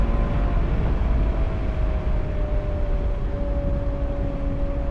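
A powerful Ferrari 812 GTS V12 engine hums steadily with deep low-end rumble and a thin tone drifting slowly lower, like the car easing off while driving.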